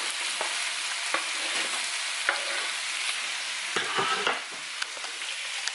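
Vegetables sizzle and hiss steadily in a hot pan while a spatula stirs and mixes them, with a few louder clatters and scrapes breaking through the constant frying noise.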